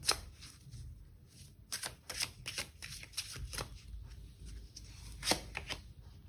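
Tarot cards being shuffled and handled close up, with a quick series of crisp riffling snaps and soft flicks, fairly quiet with a light background hiss.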